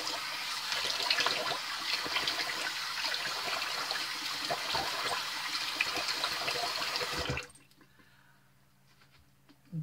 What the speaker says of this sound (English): now I'm going to do a quick cold rinse